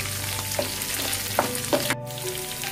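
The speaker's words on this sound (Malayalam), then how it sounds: "ഇത് നല്ലെണ്ണയിൽ കടന്നിട്ട് നന്നായി മൂക്കണം." Garlic frying in sesame oil in a pan, a steady close sizzle with a few soft stirring scrapes and light pops, fairly quiet and without voices.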